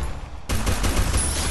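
Gunfire from the video game Free Fire opens abruptly as a loud, dense burst of rapid shots that continues without a break.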